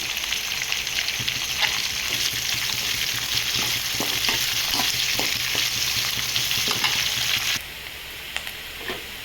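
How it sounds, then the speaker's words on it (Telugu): Green chillies and curry leaves fry in hot oil with a loud, continuous sizzle, crackles and occasional stirring clatter, settling slightly quieter toward the end; no voices are heard. "పచ్చిమిరపకాయలు, కరివేపాకు, ఇవన్నీ కాసేపు వేగనిద్దాం."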